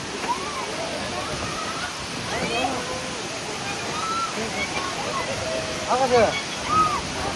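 Steady rushing water roars continuously from a nearby waterfall in the Kolli Hills, India, with scattered voices and shouts rising over the constant wash.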